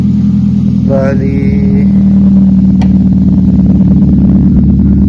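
A Toyota Vios fitted with a new straight-through muffler with a 4-inch outlet runs with a steady, loud low engine drone throughout, and a voice speaks briefly over it near the start.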